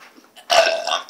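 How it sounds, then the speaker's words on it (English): A single loud, rough burp from a person in a burp contest, brief and close, preceded by faint breathy sounds. "Just try and do the best burp you can."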